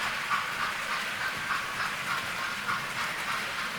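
Hornby model trains running across a viaduct on a layout, a steady rolling hiss and rumble with faint rhythmic clicks of wheels over rail joints, continuous and moderately near.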